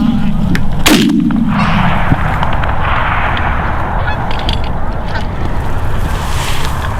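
During a goose hunt, one loud, sharp shotgun blast rings out early, followed by a long, noisy outdoor background with faint goose honking.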